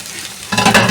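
Tomatoes sautéing in a pan for chicken apritada, a brief sizzle that swells suddenly as they are stirred, short and close.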